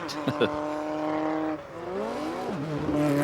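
Race car driven by Stuart Rolt on the Festival of Speed timed shootout hill course, its engine note rising and falling through gear changes, loud and near, with commentators talking over it.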